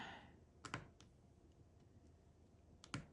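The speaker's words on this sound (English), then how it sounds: "Yeah, you can hear that satisfying click" Diamond painting drills clicking into place on a canvas, with two pairs of small sharp close clicks about two seconds apart over a quiet room background.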